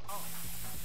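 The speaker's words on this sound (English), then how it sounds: "Pepper spray him!" Pepper spray hissing in the video game Police Force 2, a steady broadband spray that carries through the whole moment at moderate level, with game sounds beneath.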